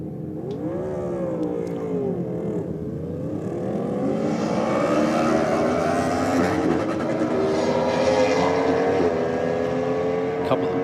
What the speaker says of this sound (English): Bit of rev limiter there going on.